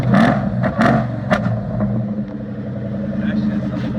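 Terminator Cobra V8 with an H-pipe exhaust revs in short bursts, a deep throaty engine note rising and falling near the listener while voices talk over it.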